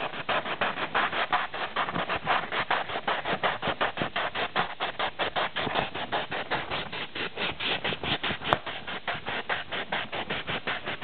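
Rhythmic back-and-forth rasping of 1500 grit sandpaper polishing the side of a Spyderco backlock knife liner, steady close strokes about two or three per second throughout, with no talking.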